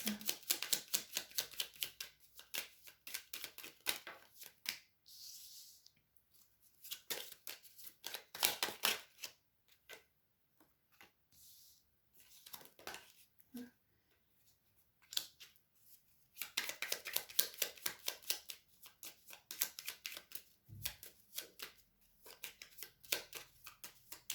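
Oracle cards are shuffled and flipped in a quiet room, giving bursts of crisp riffling and snapping that come in uneven waves with short pauses between them.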